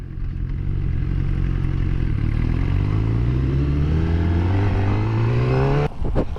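One of a group of sport bikes, a ZX6R Ninja, a CBR 1000 with a Yoshimura pipe or a CBR 600, accelerates nearby. Its engine pitch climbs smoothly for several seconds, then drops off abruptly with a clatter.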